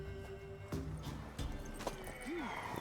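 A mare in The Witcher 3: Wild Hunt stamps with a few hoof clops and lets out a short rising whinny over a low ambient game backdrop.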